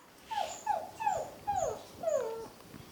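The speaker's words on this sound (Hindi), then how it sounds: "कहाँ कुकुर बोला था।" A puppy whining and yipping in five quick high-pitched calls in a row, near and moderately loud, with no talking over them.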